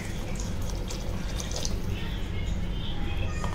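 Water used to rinse a mixer jar is poured into a cooking pot for a Malvani fish-bone curry. It makes a soft, continuous splashing and trickling sound that is close and fairly quiet.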